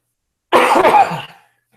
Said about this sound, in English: You're going to have to pardon my cough here.